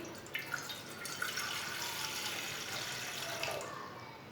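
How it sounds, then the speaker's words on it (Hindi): A glass of water is poured into a pot for a homemade cough and cold remedy, a steady splashing trickle lasting a few seconds, fairly quiet with no talk. "1 गिलास पानी डाल लेंगे।"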